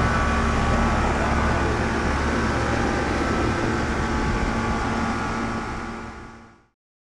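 A 1992 Rheem Classic X air conditioner with a four-blade fan motor runs with a steady, loud broadband whoosh and low hum, then winds down and falls silent near the end.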